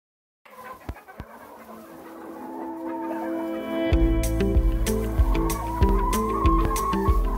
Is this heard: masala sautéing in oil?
no